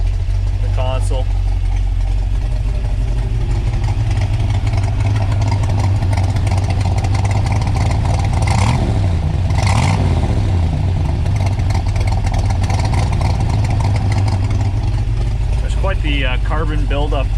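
A C2 Corvette with newly fitted side exhaust idles loudly and steadily, with a rev rising and falling midway, while someone talks over the engine.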